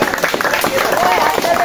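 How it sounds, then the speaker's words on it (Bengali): A small group claps for a child after a football goal-shooting challenge, a brief burst of dense applause heard close, mixed with voices talking and cheering. "হাততালি।"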